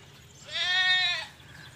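A single goat gives one clear, drawn-out bleat of about a second, close and fairly loud against a quiet farmyard background.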